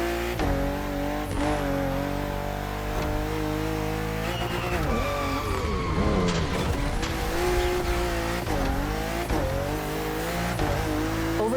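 BMW M2 and M4 race cars from the 2013–2014 series in The Crew Motorfest video game, engines roaring continuously with rising and falling revs through gear changes and brief tire squeals along a narrow, twisty road.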